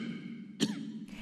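A man giving a long formal speech coughs once, a short and fairly faint cough, above a low steady room hum.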